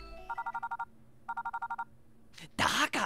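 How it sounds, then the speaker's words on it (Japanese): A phone in the video game Twisted Wonderland rings with two bursts of rapid, evenly pulsed electronic trills separated by a short pause, followed by a voice speaking loudly. "監督生の電話が鳴ってるのかもしかして"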